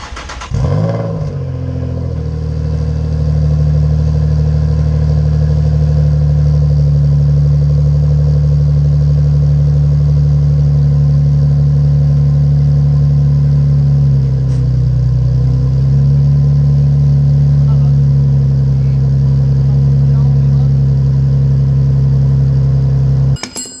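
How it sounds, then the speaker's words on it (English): Nissan 350Z with a new cat-back exhaust idling after a cold start from long storage, a loud, steady low rumble close by that holds for the full stretch, with a brief dip midway and no talking. "let's get like a cold start, right? See if there's any leaks, if I hear anything weird"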